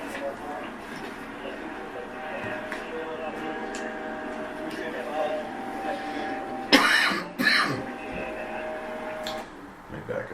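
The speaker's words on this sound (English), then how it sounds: "We had a little coughing in the background here." A couple of sharp coughs sound in a quiet room under a steady background hum, set apart from low murmuring voices.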